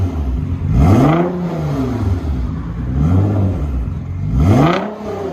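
Loud, close revving from an Aston Martin DB11 with the muffler removed: three sharp throttle blips climb and drop back to a rumbling idle, with no speech over the engine.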